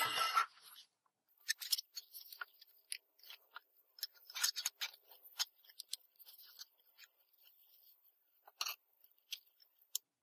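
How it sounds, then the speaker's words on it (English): Small scissors snipping sewing thread while hand-stitching a LilyPad Arduino battery lead, a series of faint, close, crisp clicks and cuts scattered over the clip with quiet gaps between them. "I'm going to tie off the thread and cut it on the back."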